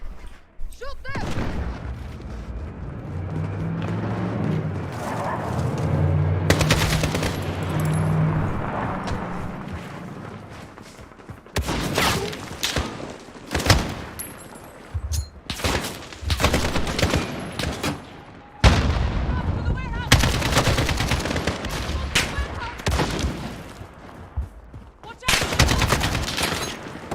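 Gunfire rages in a Call of Duty campaign mission with rapid volleys, machine-gun bursts and heavy booms after a quieter opening of rumbling ambience and music. Voices talk over the fighting.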